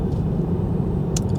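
Steady low engine rumble inside a car driving along a Norwegian winter road, a constant drone with road noise and no voices.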